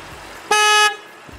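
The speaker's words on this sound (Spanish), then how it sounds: "La bocina de este coche suena así." Horn of a SEAT Ibiza FR DSG car sounding once, a single short, loud, steady honk of under half a second, near and clear over quiet surroundings.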